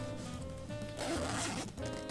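A newly sewn-in zipper on a tote bag is pulled open and shut, giving a close, brisk rasping slide followed by a second shorter zip.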